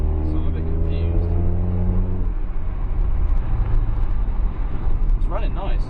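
Supercharged Mercedes SLK running and driving, its engine droning loudly with steady harmonic tones that fall away midway into a broad rumble, and a voice speaking briefly near the end.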